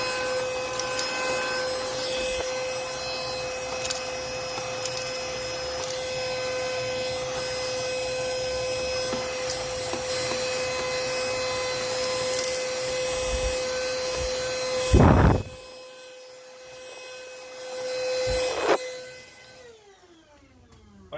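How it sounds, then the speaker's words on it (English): A small handheld vacuum whines steadily up close, cleaning old beans out of a coffee grinder, then cuts out with a thump, restarts briefly and winds down, no one talking. "I'm just going to vacuum out the old bean first."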